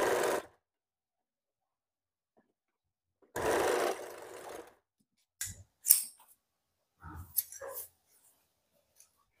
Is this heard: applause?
no